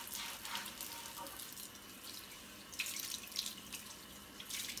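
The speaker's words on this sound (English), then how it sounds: "I don't use soap, ideally, but I will use water. And so I just will scrub this out." Water runs steadily into a sink while a cast iron pan is scrubbed without soap, a constant close wash with brief louder splashes and scrapes, no voices.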